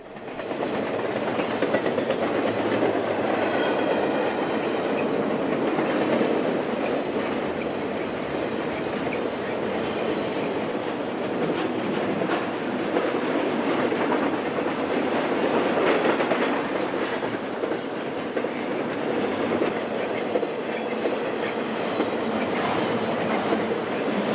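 A freight train on the Needles Subdivision near Ludlow, California rolls past steadily for the whole stretch, wheels clattering and rumbling on the rails at a loud, constant level, with faint squeals now and then.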